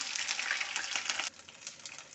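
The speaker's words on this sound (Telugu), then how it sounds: "తాలింపు అయితే పెట్టుకున్నానండి కొంచెం అల్లం తెల్లగడ్డ పేస్ట్ వేసుకున్నాను" Ginger-garlic paste tempering fries in a pan for a brinjal, chana dal and tomato curry, a soft, steady crackling sizzle that drops quieter partway through, with no talking.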